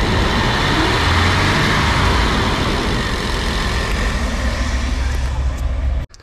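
A Chevy Astro engine revving as the gas is pressed, a loud, steady roar from close by with broadband noise that cuts off abruptly near the end.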